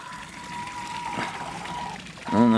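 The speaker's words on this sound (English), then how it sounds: "Got a pump to suck the water from the bottom" A small pond pump in a backyard chicken coop pond circulates water, drawing it from the bottom up to the top, producing a steady, soft trickle and hum throughout, with a louder splash or tone rising near the end.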